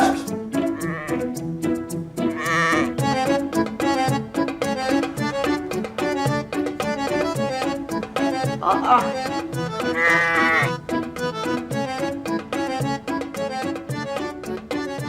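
Sheep bleat repeatedly and loudly, several wavering cries overlapping as a group of sheep calls close by.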